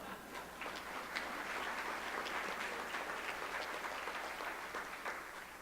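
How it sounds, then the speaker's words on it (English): An audience at a college spring closing meeting applauds its awardees with steady, moderately loud clapping that runs for several seconds and then eases slightly toward the end. "Let's have a round of applause for all our awardees."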